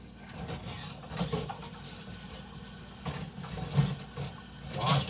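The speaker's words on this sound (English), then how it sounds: "I gotta wash my hands, and I happen to have a sink full of dishwater" Hands swish and splash in a sink full of soapy dishwater, giving soft, uneven watery sloshing with a few louder splashes and drips; no one speaks.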